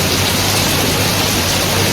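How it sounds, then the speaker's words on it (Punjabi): Dense, loud hiss of heavy rain pouring down steadily in a village, a constant wash of noise with no voices. "ਉਸ ਤੋਂ ਪਹਿਲਾਂ ਹੀ ਕਿਰਪਾ ਹੋ ਗਈ ਮੀਂਹ ਪਿਆ"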